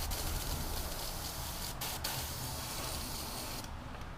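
An airbrush hisses in a steady, faint, continuous spray of paint while a bluegill fish is being painted, with brief interruptions in the spray.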